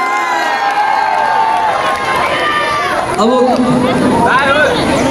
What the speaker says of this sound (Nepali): ब्युटिफुल हाम्रो पूर्वेलीहरूको लागि पनि जोरदार ताली है